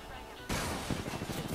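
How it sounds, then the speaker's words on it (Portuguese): A shotgun blast in Apex Legends, a single loud, abrupt boom that bursts out of quieter game noise and leaves a rough, crackling tail of in-game action. "Pá, tiro de 12."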